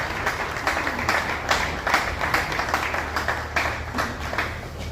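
Audience applause at an official launch event for an NGO founded by an actress, a dense steady patter of many hands clapping at moderate distance, sustained without pause and with no talk over it.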